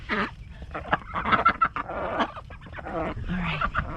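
Backyard chickens cluck and murmur close by in a run during morning chores, a busy cluster of short clucks and squawks with some honk-like calls, and no clear talk over them.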